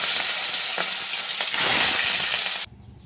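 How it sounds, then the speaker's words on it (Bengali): Pieces of katla fish sizzle loudly in hot oil, a close, dense crackling with stirring scrapes, cutting off abruptly near the end. "তেল গরম হয়ে গেছে, মাছটা ভেজে নিই।"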